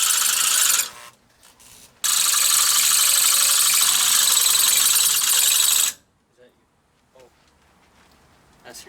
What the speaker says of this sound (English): That's your drill